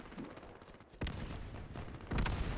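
Machine gun fire from two emplacements on castle walls in the video game Easy Red 2, sustained rattling bursts with sharper loud cracks and booms layered over continuous battlefield noise.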